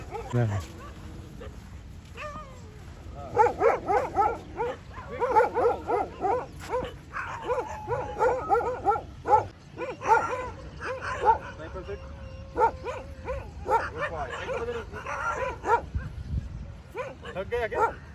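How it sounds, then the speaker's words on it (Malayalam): Several beach dogs bark and yip repeatedly at close range in bursts, with whimpers between them and people talking intermittently underneath. "ഒരു വൺ ഗ്യാങ് വരുന്നുണ്ട് ബീച്ചിലത്തെ ഡോഗുകൾ നല്ല സ്ട്രോങ് ആയിരിക്കും"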